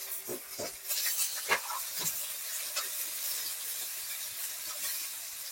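Onions and green chillies with shahjeera and bay leaves fry in hot oil, giving off a steady soft sizzling hiss broken by occasional stirring scrapes and taps, close and moderate, with no voices.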